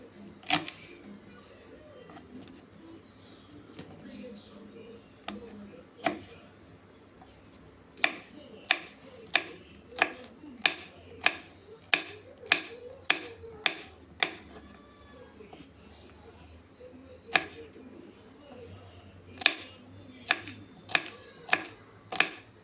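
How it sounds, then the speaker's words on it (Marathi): A knife chops okra into fine pieces on a board, with crisp, close taps that come in quick irregular runs and short pauses and stand alone against a quiet room. "आता आपण छान बारीक बारीक तुकड्यांमध्ये कट करून घेऊया."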